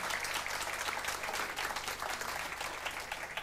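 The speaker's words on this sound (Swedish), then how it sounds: "Ska de inte ha en applåd också?" Studio audience applause on a televised Swedish bingo lottery show: a thick, even wash of many hands clapping, fairly quiet and heard at a distance, sustained without pause.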